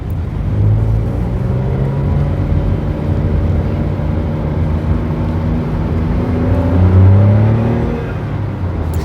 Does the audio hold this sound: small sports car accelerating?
yes